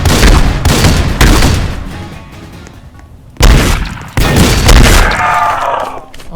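Gunfire from zombies in the Roblox game Dead Rails, as loud, dense volleys of shots and booms that fill most of the clip, dip briefly, then return in heavy bursts.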